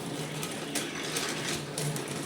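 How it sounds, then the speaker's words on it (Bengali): A coil winding machine winds the primary wire of a transformer, giving off a continuous whirring mechanical buzz with faint rhythmic ticks, steady and close. "তো এখন কিন্তু আমরা প্রাইমারি তারটা পেঁচাচ্ছি।"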